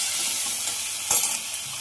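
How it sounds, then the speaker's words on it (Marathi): Prawns dropped into a hot pan for a homemade Malvani prawn gravy, giving a steady frying sizzle with a brief louder burst of hiss partway through, close and with no talking. "आता मी थोडे प्रॉन्स टाकत आहे."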